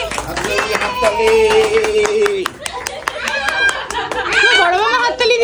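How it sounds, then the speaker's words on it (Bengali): A family claps together at a celebration, scattered sharp claps spread through the clip amid lively chatter, giggles and voices talking over one another. "হাততালি দাও সবাই, হাততালি।"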